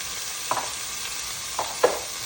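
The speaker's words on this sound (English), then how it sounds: "So first of all I will put down my cauliflower. And here are the soya chunks." Cauliflower and soya chunks frying in a pan for a Punjabi vegetable pulao, a steady sizzle broken by a few short stirring scrapes, close and clear with no talking.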